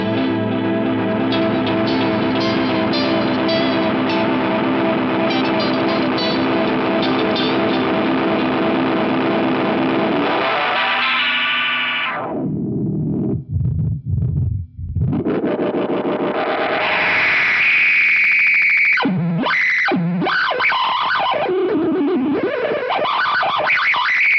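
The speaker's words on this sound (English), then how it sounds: "you use this self-oscillation button in the Bouquet delay, and you got it, you get self-oscillation" An Eventide H90 running the Bouquet delay, played through a slightly overdriven amp, holds a dense repeating tone that breaks into swooping, warbling self-oscillation with heavy modulation and echo, loud and continuous throughout.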